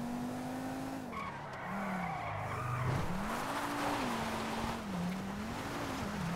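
A Porsche GT3 RS in GTA 5 with its engine revving up and down in smooth rising and falling sweeps, plus skidding tire noise, loud and close with no voices.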